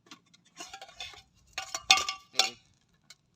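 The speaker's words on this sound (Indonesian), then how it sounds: "kalian bawa alat masak kayak nesting" Metal nesting camping cookware clinks and clatters in short bursts as pieces are handled and stacked, close and fairly sharp, with quiet pauses in between.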